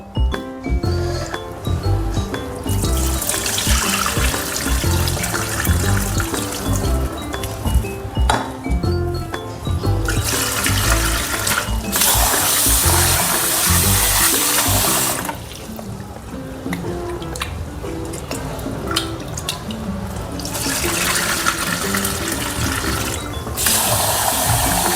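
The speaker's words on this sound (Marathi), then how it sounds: "या दोन्ही डाळी ना एकत्रच धुवून ठेवल्या तरी चालेल" Mung dal being washed under running tap water in a sieve in a kitchen, loud steady splashing flow with clinks of grains and utensils, pausing and resuming in bursts.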